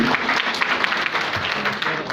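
Loud, dense clapping from a crowd at an industrial investors' event in Nagaur, steady and sustained throughout with a few voices faintly mixed in.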